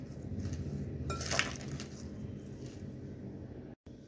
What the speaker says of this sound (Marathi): आता आपण हे सर्व व्यवस्थित मिक्स करून घेऊया।